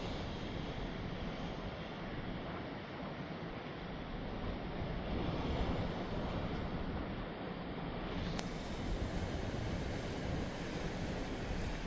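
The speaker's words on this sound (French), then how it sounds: "Il y a encore de belles vagues qui arrivent du fond là-bas" Storm surf pounds the rocky coast at Cap Couronne near Martigues during a southeasterly gale, a continuous loud roar of breaking waves mixed with gusting wind buffeting close by.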